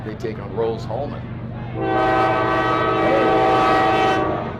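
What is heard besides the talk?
train passing next to stadium, horn sounding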